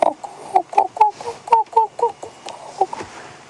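A wild bird calls repeatedly during a still sunset safari drive, a string of short, harsh caws in an uneven rhythm, fairly close, over a quiet background.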